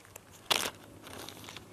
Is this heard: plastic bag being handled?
yes